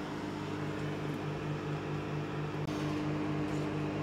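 A 700-watt Kmart Enco microwave oven runs from an off-grid inverter, giving a steady, even electrical hum with a constant tonal drone and a brief dip partway through.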